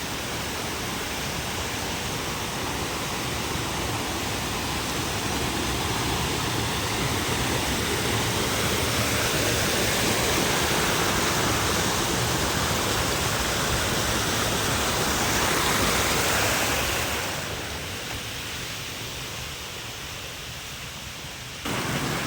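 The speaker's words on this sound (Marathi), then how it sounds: "आमची अशी नदी आहे बघा" Continuous rushing of river water, a dense, loud roar that holds steady and eases slightly near the end.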